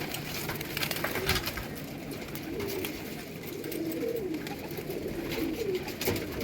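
Pigeons cooing in low, rolling calls that repeat through the stretch over steady background noise, with a pair of young pigeons nearby.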